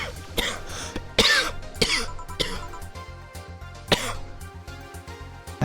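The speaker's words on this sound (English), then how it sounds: "you're clearing your throat" A person clears their throat and coughs several times in short, rough bursts, close and fairly quiet, over a steady low background hum.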